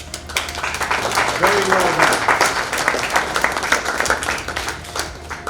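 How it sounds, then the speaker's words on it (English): Seminar audience clapping steadily for a participant who stood up, a dense wash of applause throughout with a voice talking briefly over it. "I want everybody to give this guy a clap"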